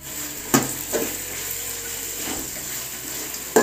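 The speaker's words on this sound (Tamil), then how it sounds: "இப்போ அதை நல்லா வதக்கிக்கலாம்" Onions and tomatoes sauté in a pan for chicken biryani, a steady soft sizzle with a few sharp clinks of a spoon stirring against the pan.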